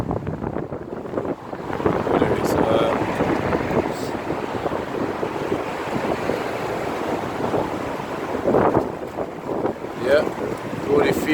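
Strong wind blows hard across the microphone outdoors, a continuous rumbling roar with gusts that swell around the middle and near the end, all the way through.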